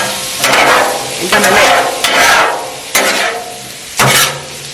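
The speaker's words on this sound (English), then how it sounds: "we're gonna let these cook, let the bacon cook" Bacon and potatoes fry on a Blackstone griddle with loud, close sizzling, broken by about five bursts of stirring and scraping roughly a second apart.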